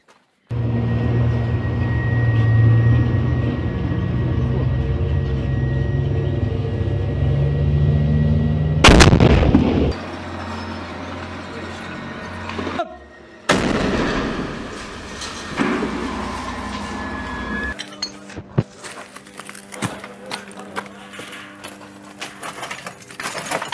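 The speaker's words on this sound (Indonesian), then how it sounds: "Hanya dengan satu tembakan, tank beserta tentara IDF langsung meledak dahsyat." A tank explodes in a loud blast that rips through steady rumbling, followed by sharp gunfire cracks and further heavy bursts, with a distant, echoing battlefield ambience.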